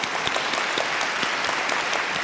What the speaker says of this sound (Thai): ขอเสียงปรบมือให้พี่หอยครับ